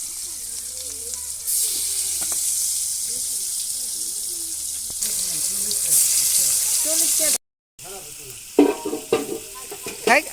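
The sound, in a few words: food frying in hot oil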